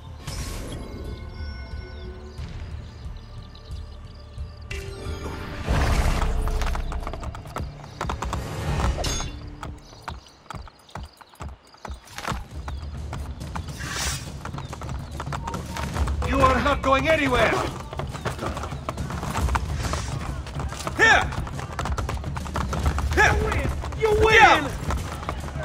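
Horse hooves clattering in a fast gallop across a bridge in Assassin's Creed Brotherhood, rhythmic and close, mixed with gunfire, mechanical clanks and battle noise, with voices speaking at times.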